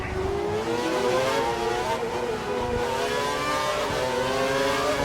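A Formula 1 car's engine at full revs in a racing video game at the Valencia 2012 circuit, a loud sustained high-pitched whine with rising and falling gear pitches, heard alone.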